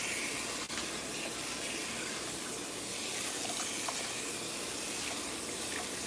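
Steady running water pours and splashes continuously at close range over natural hair being rinsed, a broad hiss with no voices.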